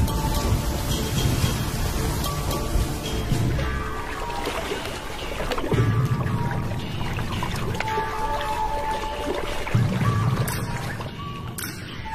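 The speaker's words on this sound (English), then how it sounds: "The first real rains for a year." Steady rain falls in the African wild during the first real rains in a year, a soft continuous patter of drops on ground and surfaces with occasional louder splashes, fairly close and without any talk.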